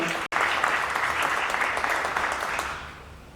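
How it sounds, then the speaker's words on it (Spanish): An audience at a poetry event in Ambato applauds to welcome a poet, sustained dense clapping after a brief cut near the start, tapering off slightly at the close. "Le recibimos con el calor de sus aplausos a Minh Binh desde China."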